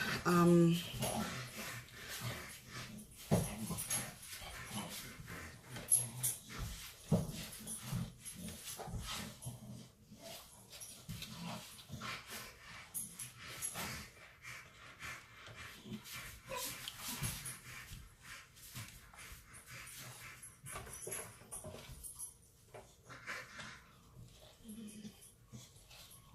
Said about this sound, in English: sorry for the noise in the background, those are my dogs playing